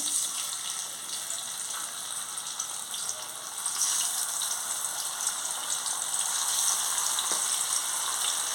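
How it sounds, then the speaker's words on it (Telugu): Fish frying in heated oil, a continuous broad hiss and crackle that grows slightly louder partway through, with no talking. "ఇప్పుడు మనం ఫిష్ ఫ్రై చేసుకుందాం ఆయిల్ హీట్ ఎక్కిందండి ఇప్పుడు మనం ఒక్కొక్క చేప వేసేసుకోవాలి"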